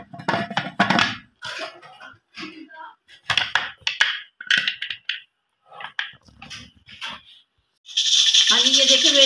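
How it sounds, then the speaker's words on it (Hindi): A pressure cooker's weight rattles and hisses steadily near the end, cooking lentils, after a stretch of spoken talk with kitchen clatter. "हाँ जी ये देखें वेट चल पड़ा है।"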